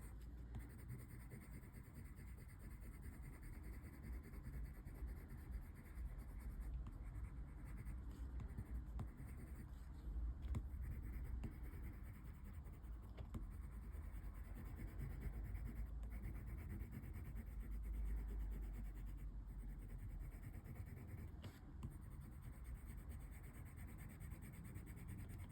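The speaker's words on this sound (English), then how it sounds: "These blender pencils really push the colour down into the tooth of the paper." Polychromos colored pencils and a blender pencil scratch across textured drawing paper in short, steady strokes, a close, dry rasping that continues throughout with no talking.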